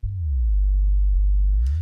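Soloed low end of a synthesized sub drop, a deep steady sine bass tone sustained and slowly gliding, loud and isolated, with a brief faint high swish near the end.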